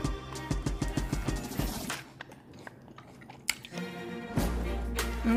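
Crunchy spicy tuna poke salad with sliced lettuce, chili powder and soy sauce being bitten and chewed up close, a run of crisp crunches at first, then quieter chewing and a few more bites near the end.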